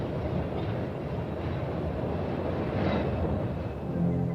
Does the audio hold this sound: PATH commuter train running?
yes